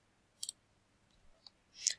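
A few sharp, faint computer mouse clicks while operating Skype for Business 2016, spaced apart in a quiet room, with a slightly louder click at the end.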